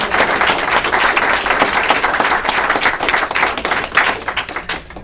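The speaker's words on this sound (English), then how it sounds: "a round of applause for" Round of applause from the audience at a town selectmen's board meeting, steady dense clapping held for several seconds and tapering slightly at the end, with no talk over it.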